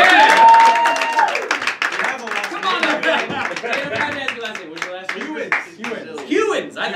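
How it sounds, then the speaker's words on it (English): A comedy improv show audience claps and cheers for a performer, sharp individual claps scattered through the crowd noise while voices shout and chatter over them. "Big round of applause for Dan!"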